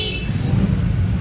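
A busy, congested street near a market, with a dense rumble of car and motorbike engines and a short horn toot near the start.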